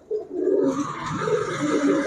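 A nearby pigeon coos in a low, rolling call lasting a couple of seconds against a hissy background, with no talking.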